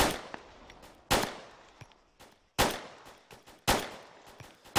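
Repeated bursts of video game gunfire from suppressing fire, sharp loud reports in clusters with short gaps between them, and no talk over them.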